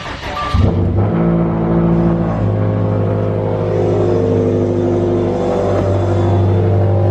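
A Subaru STI engine, started with a battery jumper, catches and settles into a loud, deep, rumbling idle close by, holding steady with slight shifts in revs.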